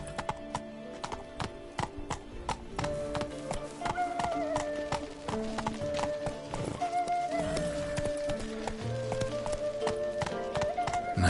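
Horse hooves clip-clopping in a PS4 video game, a steady rhythmic trot of sharp taps over game music with occasional whinny-like tones.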